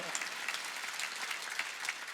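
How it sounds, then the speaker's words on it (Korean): A congregation clapping together during a Korean church Sunday worship service, heard as a steady, fairly quiet patter of many hands that continues throughout with no pauses. "박수로 하나님께 영광을 돌려요"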